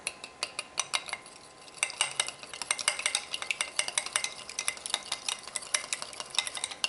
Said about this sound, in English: You beat the egg up first a little bit.